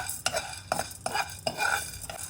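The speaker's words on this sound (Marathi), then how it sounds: "आप्पे बनवण्यासाठी सर्वात आधी मी साबुदाणा भाजून घेते आहे" Dry sago pearls are roasted and stirred in a kadhai, with a spoon repeatedly scraping and rattling the grains in a steady rhythm of close, moderately loud strokes.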